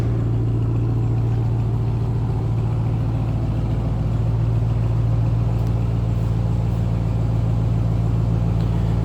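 A 2022 RAM 1500 TRX with a supercharged 6.2-liter Hemi V8 idles heard from behind the truck, a deep, steady rumble with a throbbing low pulse, loud and unbroken with no talk.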